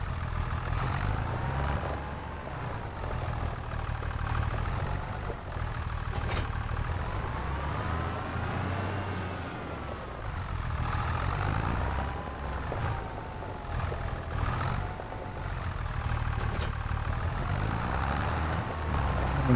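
Small tractor engine in the Farming Simulator 25 game runs continuously, a steady low rumble with rising and falling revs as it drives, close and prominent throughout without talk.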